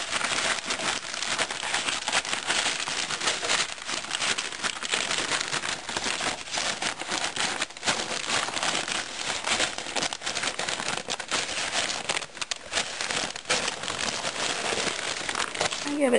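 A bag of shredded beet pulp with molasses, goat feed, is handled close up, giving continuous crinkling and rustling over the whole stretch.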